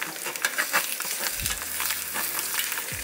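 An egg fries in a pan in a home kitchen, giving a steady close sizzle with scattered crackles and pops, plus a brief low knock partway through.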